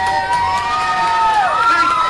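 A played-back recording of a crowd giving a standing ovation fills the air with a dense, sustained roar of cheering, shouts and whistles at a fairly loud, even level.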